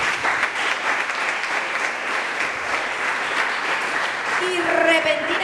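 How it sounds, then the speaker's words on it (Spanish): A church congregation applauds, a steady, dense wash of clapping from many hands that continues unbroken throughout, with a few voices rising faintly near the end. "aplausos."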